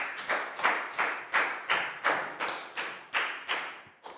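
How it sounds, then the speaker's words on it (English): A Year 4 maths class claps for a student in a steady, even rhythm, about eleven sharp, evenly spaced beats that sound close and fairly loud. "High five and a big round of applause for Lakgau, please, guys."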